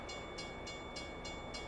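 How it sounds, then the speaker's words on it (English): In American Truck Simulator, a train passes a railroad crossing, heard as a steady rumbling rail noise with a regular rhythmic pulse repeating about every third of a second, moderately faint and with no voices. "We're going to have to wait for the train to go by."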